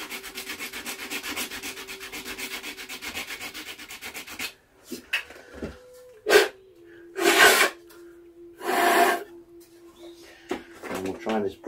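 Sandpaper rubs along the carved channel of a driftwood drone flute. A long stretch of steady rasping is followed by several separate scrubbing strokes, and a steady tone and faint background birds can be heard.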